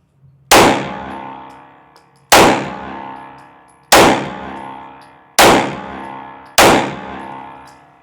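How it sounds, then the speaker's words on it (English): Five loud, sharp Glock Gen 6 pistol shots fired at a shooting range from about 5 or 6 yards, each a hard crack with a ringing decay, spaced roughly a second or more apart with no talk. "All right, first shots."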